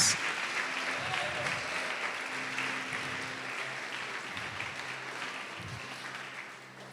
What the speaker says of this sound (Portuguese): Pode aplaudir e glorificar a Deus.